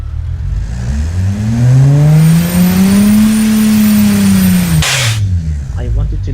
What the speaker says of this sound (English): it's idling at 700 RPM